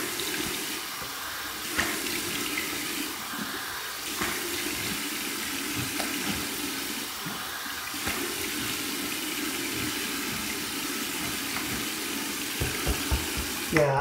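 Cold tap water runs into a sink for a rinse after a shave, a steady splashing flow with intermittent knocks and splashes, under some quiet background voice.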